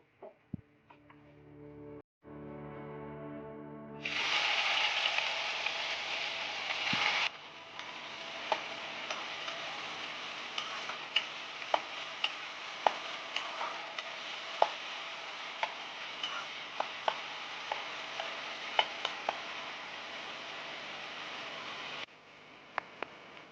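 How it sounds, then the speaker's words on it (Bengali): Carrot pieces dropped into hot mustard oil in a wok for a paneer momo filling start a steady, close hiss after a few quiet seconds, with scattered small clicks and taps running through it until the sizzle cuts off near the end. "গাজরটা হালকা ভেজে দিয়েছি"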